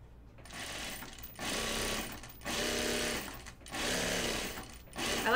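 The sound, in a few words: sewing machine stitching binding on a bucket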